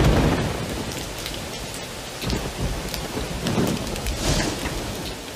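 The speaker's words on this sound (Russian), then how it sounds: "Сезон дождей в этих краях длится с мая по октябрь." Heavy tropical rainfall pours in a dense, steady hiss near the Maya site of Tikal, with deep rolling thunder swelling underneath in a couple of low surges; no voices.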